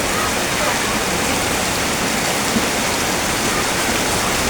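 Heavy rain pours steadily with wind during a storm, a dense, continuous rushing hiss close by, with no pauses and no voices over it.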